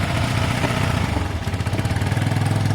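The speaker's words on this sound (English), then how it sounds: "In a minute you'll be able to turn the choke off and it should idle a bit better." A cheap motorcycle engine idles with the choke on, giving a loud, close, steady chugging putter with a slightly uneven rhythm and a rattly edge, with no talking.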